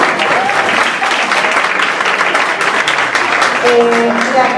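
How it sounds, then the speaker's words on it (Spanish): Loud, sustained audience applause after a lecture on the Colombian pension system at a university event, dense even clapping filling the whole stretch. "Un fuerte aplauso"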